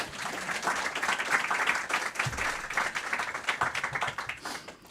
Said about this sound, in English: A round of applause would be in order at this time.